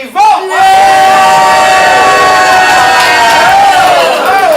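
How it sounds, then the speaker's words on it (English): Game-show audience at a ComedySportz improv comedy show, cheering and shouting team colors all at once to cast a vote, a loud, sustained roar of many voices right up close that swells quickly and holds. "be ready to cheer and shout the color that you think they should pick"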